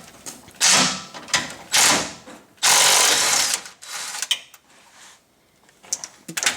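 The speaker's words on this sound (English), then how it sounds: "I gotta get a ratchet to hold it." Ratchet wrench working a bolt on a Nissan Frontier during a neutral safety switch replacement, heard as bursts of fast clicking ratcheting separated by short pauses, with clanks of metal and tool handling close by.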